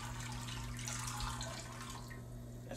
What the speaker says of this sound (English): you want to put some water in here so these oysters get a chance to steam good and hot